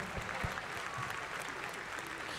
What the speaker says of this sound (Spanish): un aplauso fuerte para los muchachos del grupo